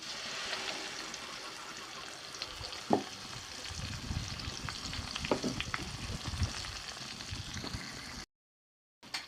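Steady sizzling and crackling of biryani ingredients frying in a pan, with occasional stirring clinks, fairly quiet and close, no talking.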